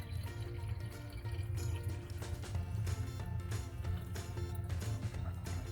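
Coffee extract pours steadily back into a container at close range, a continuous gurgling splash with small drips and no speech.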